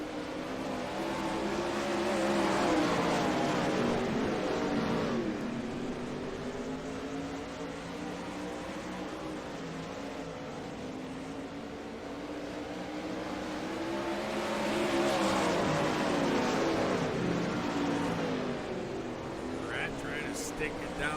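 410 sprint cars racing on a dirt track, a steady wall of engine roar that swells as the pack comes past and fades, with a race commentator talking continuously over it.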